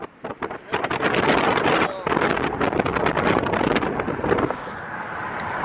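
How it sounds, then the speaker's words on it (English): Strong wind gusts buffet the microphone outdoors in loud, roaring bursts with brief lulls, nearly continuous and close, while people talk faintly underneath. "Was that enough wind for you guys?"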